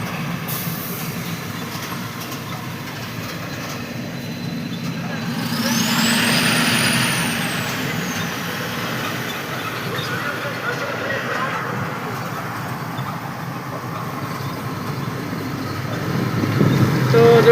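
Vehicles idle and rumble in a traffic jam at the Kopta railway crossing. A steady, fairly loud drone runs throughout, with a rising-and-falling horn-like tone around the middle and the noise swelling toward the end.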